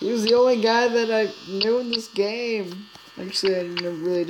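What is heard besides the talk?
No everyday noises stand out.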